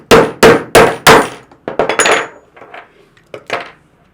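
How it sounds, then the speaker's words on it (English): A hammer strikes a socket held on a wiper arm rivet of an older BMW 5 Series: four loud, evenly spaced metallic blows, then a run of lighter, irregular taps, all close and with no talk. "With a suitable socket, put it over the end of the rivet and then just punch through the rest of the rivet"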